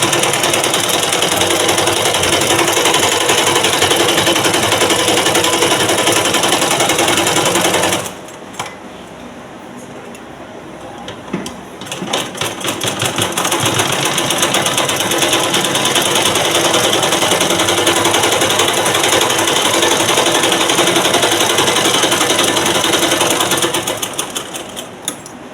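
A sewing machine stitches a blouse in a loud, steady run, falls quiet for a few seconds, then picks up again and keeps stitching continuously before stopping near the end.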